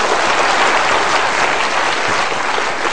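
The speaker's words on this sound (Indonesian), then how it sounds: "Tepuk tangan boleh." Sustained audience applause during a motivational seminar, a dense, steady wash of many hands clapping at full loudness throughout, with no voices standing out.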